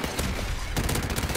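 Rapid gunfire in the game Call of Duty 4: Modern Warfare Remastered, a dense burst of loud close shots with a brief lull before the firing resumes.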